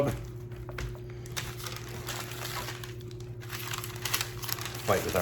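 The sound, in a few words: crinkling parchment paper while wrapping BBQ ribs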